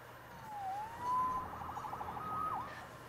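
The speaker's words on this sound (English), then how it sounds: "Saved by the siren." A police siren in the video game Marvel's Spider-Man wails in rising and falling tones over a low background hum, steady and moderately loud with no talking.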